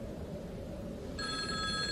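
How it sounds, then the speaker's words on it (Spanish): A home telephone begins ringing partway through, a clear steady electronic ring entering alone over low background noise as a sound effect in a spoken story. "Sonó el teléfono de la casa"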